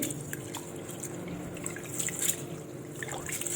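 Moong dal and rice being rinsed in water, a steady trickle with small drips and sloshes, close and continuous.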